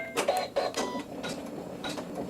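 A domestic sewing machine stitches a quilt block seam with white thread in the bobbin, a close, steady mechanical whir with short clattering bursts and no talking.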